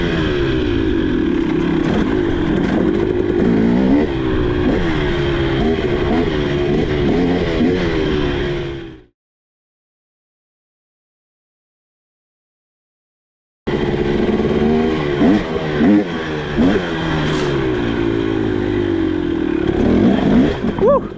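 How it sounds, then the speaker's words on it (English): 2023 KTM 300XC dirt bike with WP suspension ridden on rough terrain, its two-stroke engine revving loudly and rising and falling in pitch, cut by a silent gap midway. "I'm going to go ride dirt bikes."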